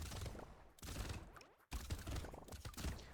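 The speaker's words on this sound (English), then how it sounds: "Everything is just blowing up immediately." Rapid crackling explosions from tier 4 turrets in the video game Brotato pile up in a constant, dense barrage, briefly cutting out before resuming just as busy.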